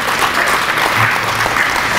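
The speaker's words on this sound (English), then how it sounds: "So give yourself a round of applause." Audience applause in a primary school hall at a celebration event, steady, dense clapping from a crowd that fills the whole short stretch at an even level.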